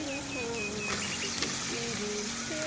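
Fried folli fish lowered into hot spiced oil in a pan while cooking in a village, giving a steady, even sizzle throughout, with a voice talking faintly over it.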